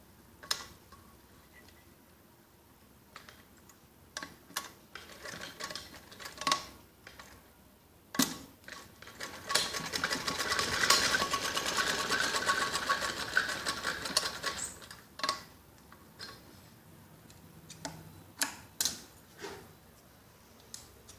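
A sewing machine runs a straight seam up the side of a child's top, heard close as a steady run of fast mechanical chatter broken by ticks, clicks and short pauses.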